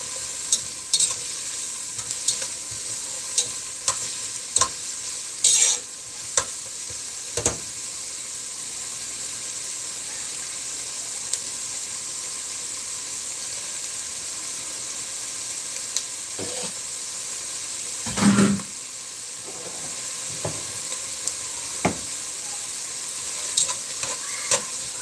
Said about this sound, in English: Try to keep your onions moving too, because we don't want burnt onions.